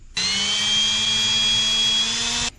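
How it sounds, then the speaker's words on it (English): A small power drill with a small bit whirs steadily at close range for about two seconds, drilling holes for a dash mount in a 2024 Chevrolet Colorado ZR2, a high-pitched buzzing motor with a constant tone, starting and stopping abruptly. "use the small drill bit to drill those holes"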